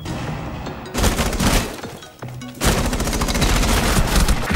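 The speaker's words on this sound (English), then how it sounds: "Just shoot through the wall." Dense, loud bursts of automatic gunfire in Rainbow Six Siege, shooting through a wall, with a brief break and then a second sustained volley.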